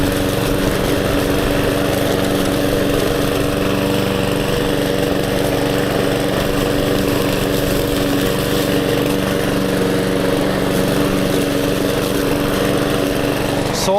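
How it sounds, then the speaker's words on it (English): A Briggs and Stratton engine on a cheap lawn mower runs loud and close at a steady, unbroken drone for the whole stretch, with no change in pace. "Yeah, good old Briggs and Stratton engine."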